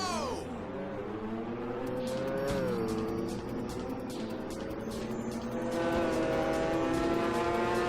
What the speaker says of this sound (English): One thing that is quite loud is the sound of the engines when they are close to you.